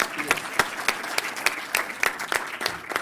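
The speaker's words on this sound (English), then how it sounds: "A round of applause for everybody." Applause from the audience at a conference session on regional solutions for displaced populations and host communities, a moderate crowd clapping steadily in a room, heard on its own without talk.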